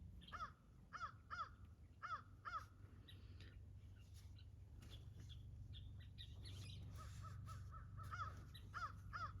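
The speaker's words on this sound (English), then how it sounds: "I do not know what is going on with the crows this morning." Crows cawing outdoors in the morning, a run of repeated harsh caws at a steady rhythm, then a pause before another burst, fairly distant over a low background hum.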